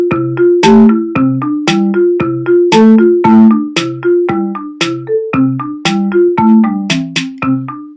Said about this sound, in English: this is the piece of music that I put together a few days ago